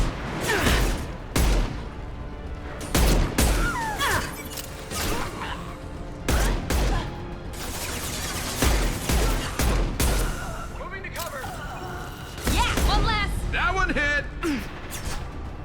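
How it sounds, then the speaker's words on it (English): Repeated bursts of gunfire in the Mass Effect 2 Remastered video game, loud and close, come in rapid volleys with heavy impacts and explosive booms between them, while in-game voices talk over the battle. "Firing a high-impact shot."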